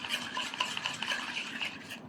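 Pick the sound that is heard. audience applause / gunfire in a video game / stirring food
stirring food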